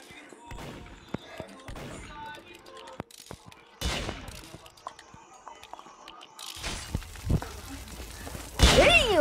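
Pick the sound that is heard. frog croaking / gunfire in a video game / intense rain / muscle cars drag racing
gunfire in a video game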